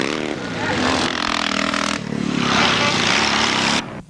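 A Triumph 500 motorcycle races through a classic scramble, its engine revving hard and close for a few seconds with brief throttle changes. A commentator talks over the engine noise.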